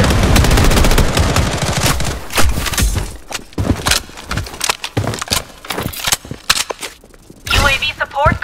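Gunfire in the Bloodstrike video game, loud rapid bursts of shots close by, followed by scattered shots with short pauses, with game voice lines heard alongside.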